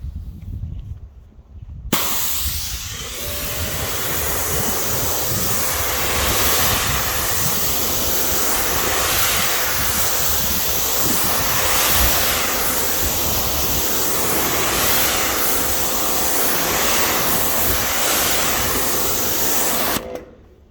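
A pressure washer at a touchless car wash rinses foam off a car with a loud, steady hissing spray that starts abruptly, runs unbroken for nearly twenty seconds and then cuts off.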